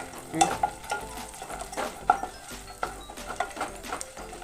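Vermicelli fries in a pan, sizzling softly under irregular scraping and clinking as it is stirred, close by and with no voices.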